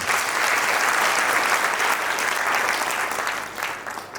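Sustained audience applause at a motivational success talk in Haryana, dense and steady clapping filling the room for about four seconds, easing slightly toward the end with no speech over it.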